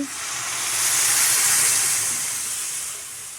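Water is poured into a hot pan of potato and vegetable curry, setting off a loud, bright hissing sizzle that swells and then slowly fades, with no voices.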